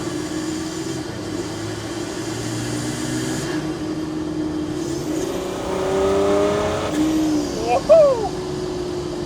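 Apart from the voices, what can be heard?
Land Rover Defender engine revving while driving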